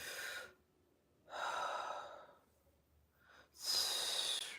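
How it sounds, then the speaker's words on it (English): Deep, audible breaths drawn through the diaphragm during a prenatal and postnatal core exercise, three close inhale-exhale bursts separated by quiet pauses, with no talking. "Breathing through your diaphragm."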